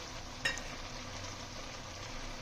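Katla fish head and potatoes cooking with cabbage in a crowded kadai, giving a faint, steady sizzle and bubble throughout, with one brief clink near the start.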